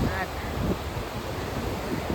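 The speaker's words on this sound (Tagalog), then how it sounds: "Tingnan mo kung gaano kalakas yung dagat." Strong ocean waves wash continuously onto a shore close to a house, a steady roaring surf mixed with gusty wind buffeting the microphone.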